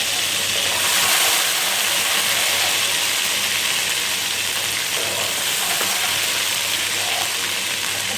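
Ginger garlic paste frying in a pan for egg fried rice, a steady loud sizzle with crackling throughout and no talking.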